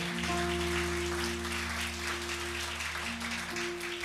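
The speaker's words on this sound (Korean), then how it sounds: "우리 주님께 영광의 박수 올리겠습니다" Church congregation at a Sunday worship service applauding, a dense, even wash of clapping over a steady sustained organ or keyboard tone.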